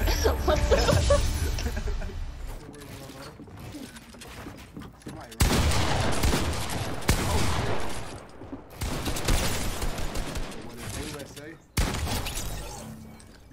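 Fortnite gunfire comes in several loud, abrupt bursts of rapid shots with crackling, shattering impacts between quieter stretches, while a player's voice talks over the fighting.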